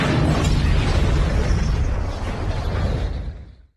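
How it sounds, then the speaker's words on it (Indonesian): Helicopter blowing up in the sci-fi film Skyline, a loud, broad rumbling blast that rolls on for a few seconds with debris noise before cutting to silence. "Hal itu membuat helikopternya oleng dan langsung meledak."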